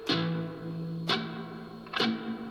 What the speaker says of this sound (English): So here we obviously have reverb